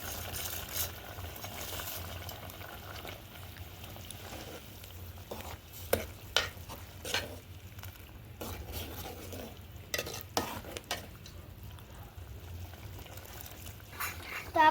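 Sev being stirred into a frying onion curry in a pan, soft continuous sizzle with a scatter of sharper scraping and clinking spoon strokes against the pot, close and quiet.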